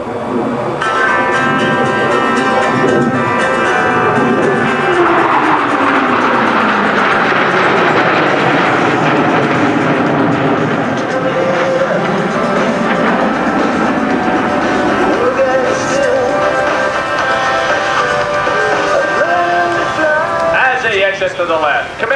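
Blue Angels jets fly over the Sioux Falls airshow with a long, loud sweeping roar that swells and fades as they pass, under a continuous rumble, with an announcer speaking throughout.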